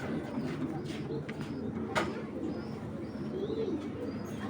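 A male pigeon of the Hurricane breed gives soft, low, rolling coos, repeated at a quiet level with faint chirps in the background.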